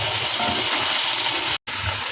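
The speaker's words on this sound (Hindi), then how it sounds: "अब इस पॉइंट पे हम इसके अंदर शामिल करेंगे पानी, जो है इसकी अपनी ही यखनी" Chicken stock (yakhni) pours into a pot in a steady rushing, gushing stream, close and continuous, with a brief cut of silence near the end.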